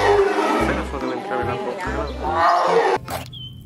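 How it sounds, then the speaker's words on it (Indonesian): Tiger roar in a children's toy play scene, a series of growling roars broken into several bursts, close and prominent, ending with a short clatter and a thin tone. "Wow, ada harimau."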